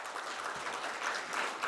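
An audience at a dealer conference applauds in a steady, even wash of clapping, moderately loud and continuous, with no talk over it.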